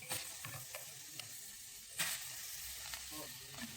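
Soybean chunks dry-frying without oil in a kadai alongside potato, bitter gourd and eggplant, giving a low crackling sizzle with scraping stir noises and a few sharper clinks, steady and close.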